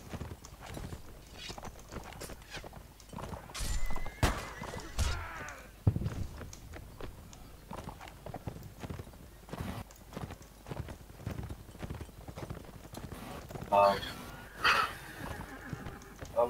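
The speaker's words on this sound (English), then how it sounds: "I'm gonna take this Persian horse." Horse hooves of a Persian horse in the game Mount & Blade: Warband clip-clop in an irregular stream of sharp knocks, with a whinny partway through and other game-like clatter around it.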